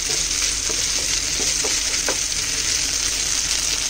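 Steady, loud sizzling of ginger and garlic frying in a hot pan over medium-high flame, with faint occasional stirring clicks beneath the constant hiss.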